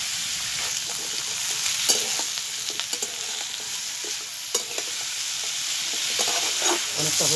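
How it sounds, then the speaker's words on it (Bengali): Potatoes and green amaranth stems frying together in a pan with salt and turmeric, a continuous close sizzle broken by scattered clinks and scrapes of stirring, no talk. "আলু আর ডাঁটা একসঙ্গে আমি হালকা করে ভেজে নিচ্ছি"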